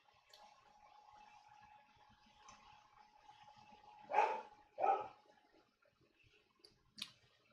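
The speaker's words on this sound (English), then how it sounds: "Oh, there's barking upstairs." A dog barks from an upstairs room: two muffled, fairly distant barks in quick succession, then a fainter third, over a quiet indoor background.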